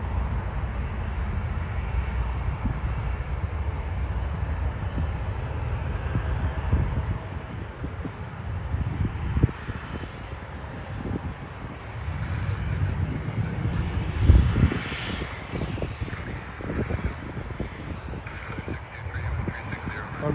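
A Bombardier Challenger 3500 business jet at Toronto airport passes as a moderate, wavering roar that swells and eases over wind-buffeted background, with faint bursts of talk.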